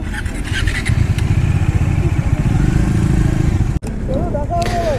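A nearby motorcycle engine runs with a steady mid-pitched putter and clatter during a Sunday ride, loud and close, as voices talk over it before the bike moves off.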